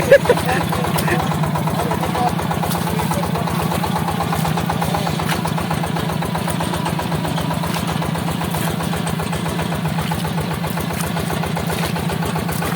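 A new Yanmar 160 tractor engine runs steadily throughout, a close, continuous low chugging idle with even rhythm, while people talk over it.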